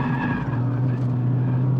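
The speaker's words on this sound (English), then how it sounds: "Front tires screaming for mercy" Front tires of a 2024 Mazda MX-5 Miata ND3 squeal steadily under hard cornering at Sonoma Raceway, a continuous loud screech layered over the car's droning engine, close and sustained throughout.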